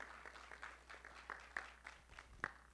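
Audience at a community Q&A session applauding, a brief burst of scattered clapping from a small crowd, heard faint and somewhat distant.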